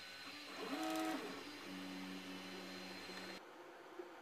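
A Mingda D2 3D printer printing PLA filament whirs and hums, with stepper motors whining in sliding tones and a steady mechanical drone, fairly quiet, ending abruptly.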